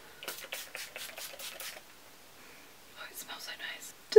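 A makeup setting spray bottle shaken by hand, about seven quick rattling strokes in a steady rhythm, close and fairly crisp, followed after a pause by softer breathy, hissy sounds.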